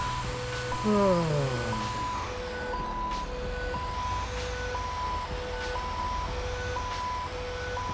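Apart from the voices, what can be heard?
fire truck engine in video game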